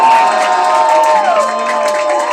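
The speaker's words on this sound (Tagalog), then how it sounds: "yung malakas na pagpalakpak at sumigaw tayo na may tagumpay" A church congregation cheers and shouts loudly in one sustained burst of crowd noise, with raised voices rising and sliding in pitch through a steady roar of excitement.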